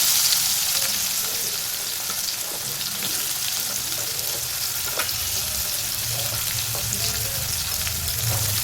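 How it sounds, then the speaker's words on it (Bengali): Chopped onions sizzle steadily in hot oil, a continuous close crackling hiss with occasional stirring scrapes. "পেঁয়াজটাকে আমি ভালো করে লাল লাল করে ভেজে নেব।"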